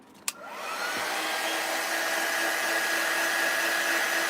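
A hair dryer switches on after a sharp click and settles into a steady, loud blowing whine, used to dry a craft transfer on Valentine's decor.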